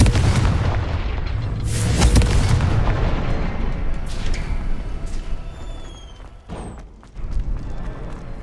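Confringo fire spell blasts from a Hogwarts Legacy duel, heavy booming explosions rolling one after another over a dense battle din, with a brief quieter gap before another impact near the end.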